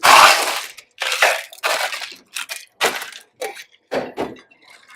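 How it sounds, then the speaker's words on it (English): Ice rattles and crashes inside a cocktail shaker as an espresso martini is shaken with a long-throw technique, giving about eight loud rhythmic bursts of clattering ice separated by short pauses. "the method that we use to shake is the long throw, so you get the maximum air in"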